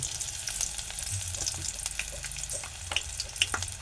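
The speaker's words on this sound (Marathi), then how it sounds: "राई जिरं टाकणार आहे थोडंसं कढीपत्ता टाकतो" Mustard seeds, cumin and curry leaves sizzle and crackle steadily in hot oil, with scattered sharp pops and spits over a continuous close frying hiss, no voices.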